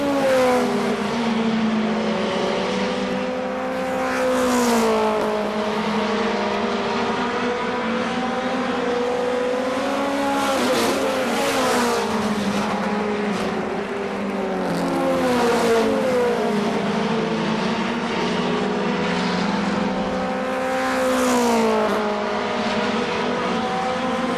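Race cars lapping KilKare Speedway in Dayton, a continuous loud roar of several engines with rising and falling pitch as cars pass close by, with no voices.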